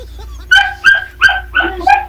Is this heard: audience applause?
no